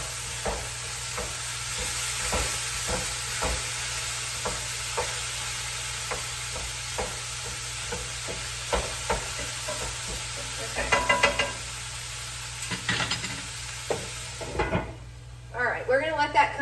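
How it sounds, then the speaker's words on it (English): Ground meat sizzles steadily in a hot pan while a Pampered Chef Mix 'N Chop repeatedly scrapes and taps against the pan to crumble it. Clicks and knocks recur over a constant frying hiss. "we are going to crumple it up using my favorite Pampered Chef mix and chop"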